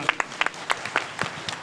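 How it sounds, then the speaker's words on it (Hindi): Applause from a congregation at a Jain religious sermon, a short burst of scattered, fairly light clapping with sparse claps rather than a dense roar. "जोरदार ताली बजा दो।"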